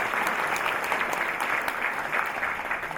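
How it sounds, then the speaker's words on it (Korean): Dense, steady applause from a large audience at an inauguration ceremony for a new president of the Korean Liberation Association. The clapping is loud and continuous, holding an even level for the whole stretch with no break. "여러분 다시 한번 큰 박수를 부탁드립니다"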